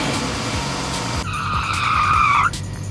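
A car engine cranks and starts after an oil leak repair, with steady, loud engine noise and a sharp, high squeal that rises for about a second before dropping away.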